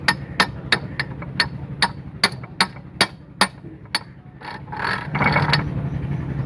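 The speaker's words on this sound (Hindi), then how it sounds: "तो ये देखें, ये पाँचवा गियर हमने पूरा लगा दिया" A Nissan truck gearbox being shifted through its gears gives a rapid series of sharp metallic clacks and knocks, about a dozen close hits, then a rougher scraping rattle near the end.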